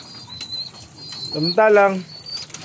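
Pigeons in a fancier's loft coo in a warbling run and flap their wings, with someone talking briefly in the background.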